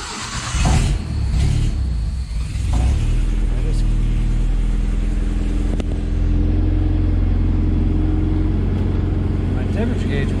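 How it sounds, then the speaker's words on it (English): A 1970 Datsun 521 truck engine starts and then idles steadily with a low, continuous rumble, close and loud for most of the stretch after an initial burst of cranking. "So I start the truck, put the headlights on."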